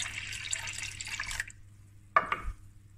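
Full cream milk pours from a cup into a mixture, a soft splashing stream for about a second and a half, then a brief quiet gap before a couple of last drips and a light knock.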